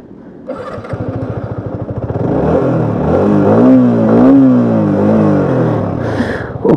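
A Yamaha R15 V4 sports motorcycle engine revs up, climbing to a sustained high, wavering pitch before easing back down. The rev is loud and close, with no talking.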